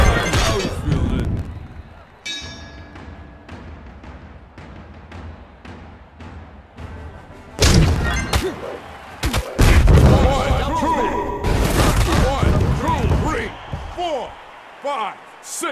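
Impacts from a Creed VR boxing game, a series of sharp thuds and slams landing in quick bursts, loud and close, with game crowd and announcer noise and a voice talking over them.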